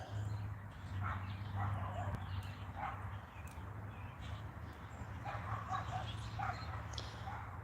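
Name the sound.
neighbor's dogs barking and yapping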